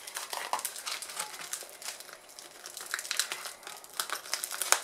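Transparent plastic pencil case, softened with a little heat, being turned inside out: continuous close crinkling and crackling of stiff plastic with irregular bursts and no voices.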